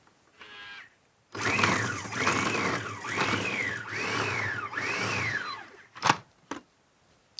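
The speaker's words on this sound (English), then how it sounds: "So the lid goes on, and I like to pulse this until we get a sticky paste" A food processor pulses a prawn mixture for a Thai curry prawn sandwich into a sticky paste, five loud whirring bursts in quick rhythm with a rising-falling pitch, followed by a couple of short knocks.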